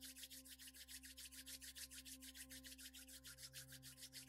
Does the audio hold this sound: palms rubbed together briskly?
yes